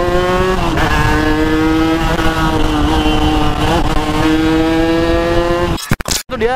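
A big 500cc motorcycle accelerating hard on an Indonesian road, its loud engine note climbing through rising revs before cutting off abruptly into wind buffeting near the end.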